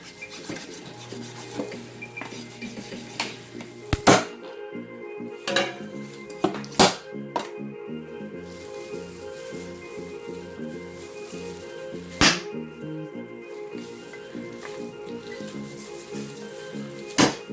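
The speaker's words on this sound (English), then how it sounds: "I'm going to cut it up in pieces" Jerk turkey is chopped into pieces, with sharp knife knocks and clatters against a board or pan landing irregularly over a steady low kitchen hum.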